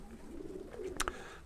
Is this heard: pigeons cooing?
yes